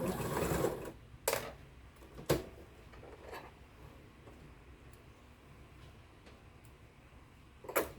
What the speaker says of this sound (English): Now I'm going to make sure I hang on to this corner here where I had them together until I finish